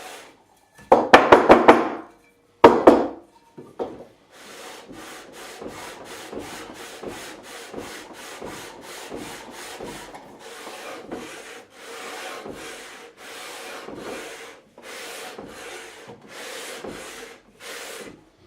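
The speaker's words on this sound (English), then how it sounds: "So this sandpaper is just about at it. I'm going to go have another go with it." Sandpaper rubbed over the fretboard of a Hondo Deluxe Series 757 Telecaster-style guitar neck during a re-fret, starting with a few harder scrapes, then a long run of steady, even back-and-forth strokes, close and alone.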